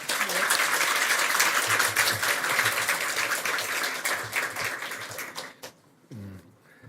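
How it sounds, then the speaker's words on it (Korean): Congregational applause in a church welcoming a pastor before a Sunday sermon: dense, loud, sustained clapping from a crowd that fades out toward the end as a voice begins. "목사님 나오실 때 박수로 환영하겠습니다."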